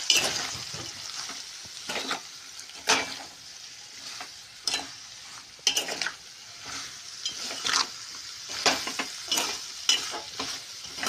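Thick spiny gourd curry bubbling and sizzling in a pan, with irregular stirring scrapes and soft pops, close by and fairly quiet, no voices.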